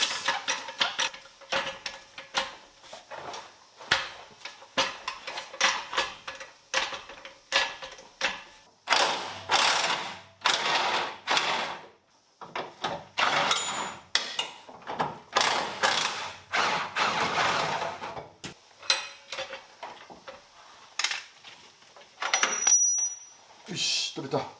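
Bolts being removed to lower the differential on a Mazda RX-7 FD3S under restoration, heard as close, dense bursts of ratchet clicking and metallic mechanism rattles in rapid repeated runs with short pauses.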